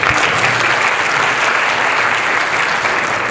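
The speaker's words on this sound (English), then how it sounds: "A round of applause to you" Dense, loud applause from a crowd at an 11th-grade graduation ceremony, a steady wash of clapping sustained throughout with a few faint voices underneath.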